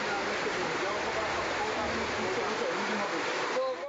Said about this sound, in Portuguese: A água começou a entrar como se fosse o oceano, com muita força.